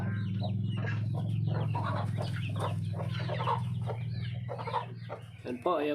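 Brahma chickens cluck and chatter close by in a farmyard, with a hen among her adopted chicks; soft peeps and repeated clucks run throughout over a low steady hum, with someone talking briefly near the end.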